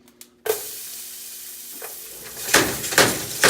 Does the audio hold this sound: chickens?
no